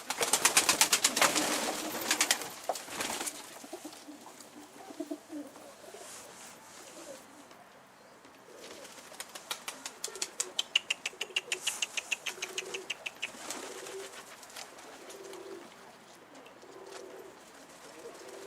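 Pigeons cooing as they are released from their coop, soft repeated coos close by with bursts of wing flapping, while someone talks to the birds over them.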